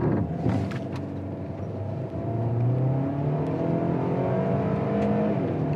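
A 2023 Range Rover Evoque facelift in comfort mode pulls away hard from a standstill, its engine note rising steadily in pitch as it gathers speed, heard from inside the cabin over a constant broadband road and engine drone.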